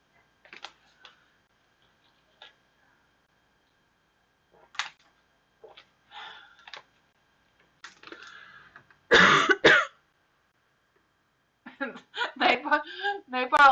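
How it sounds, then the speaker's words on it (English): Scattered small clicks and taps give way to a loud, close burst of coughing and throat clearing, followed by a few shorter rough bursts near the end. "I don't know what's wrong with my coughing tonight."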